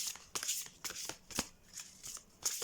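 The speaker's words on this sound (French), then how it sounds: "J'adore mélanger les cartes." Oracle cards are shuffled by hand in quick, soft riffling bursts, about a dozen papery flicks in an uneven rhythm, close and quiet with no talk.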